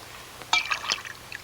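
Water pours into a glass in a brief, bright splash and trickle lasting under a second, faint and close in a quiet period film scene.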